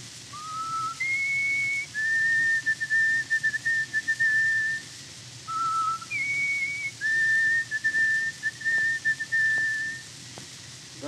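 A man whistles an imitation of the white-throated sparrow's call: clear, pure sustained notes stepping in short phrases, with two repeated phrases separated by a brief pause.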